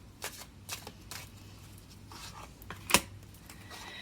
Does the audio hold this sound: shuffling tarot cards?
yes